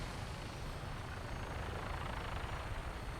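Vertibird aircraft lifting off in Fallout 4, a steady loud rotor drone with a dense low thump filling the whole moment, no voices.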